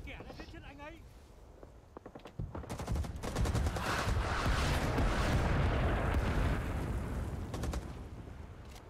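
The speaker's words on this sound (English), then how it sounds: "Watch out for the artillery, it's danger close." Artillery fire in Rising Storm 2: Vietnam, with a burst of shots, then a heavy sustained rumble of explosions and gunfire from about two and a half seconds on, over a faint voice early.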